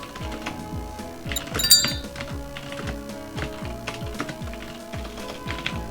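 Rapid, steady keystrokes on a computer keyboard at an OfficeVision/VM terminal, with close, crisp clicks in an uneven rhythm over a faint background hum and no talking.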